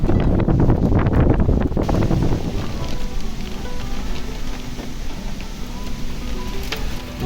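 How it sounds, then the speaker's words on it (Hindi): Hail pelts a village mud house in a dense, loud, continuous patter of hard strikes, with gusty wind buffeting throughout and a heavier clatter in the first couple of seconds. "ओले गिर रहे हैं।"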